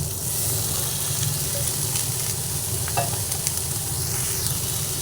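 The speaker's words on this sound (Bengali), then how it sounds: "বেগুনটা দিয়ে আবার ভালোভাবে ভেজে নিচ্ছি" Eggplant pieces frying in fish oil in a pan for a katla fish eggplant chorchori, a steady close sizzle with occasional scraping stirs and faint clinks, no talking.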